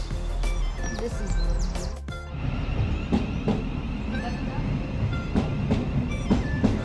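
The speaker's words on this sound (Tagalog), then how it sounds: "Ito na yung train namin." A train rolls into London St. Pancras station, a steady close rumble with clacking wheels and brief squeals, chirping and other station noise layered over it, with voices talking faintly in the background.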